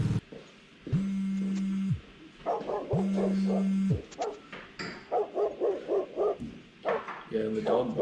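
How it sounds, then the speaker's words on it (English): A dog's barking plays back through a biomagnet haptic engine as a run of sharp, evenly spaced barks, preceded by two long steady buzzing tones, with people talking nearby. "the dog barking"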